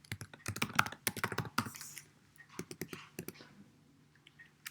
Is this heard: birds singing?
no